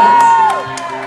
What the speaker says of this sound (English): So a big round of applause for Zach and Ariel.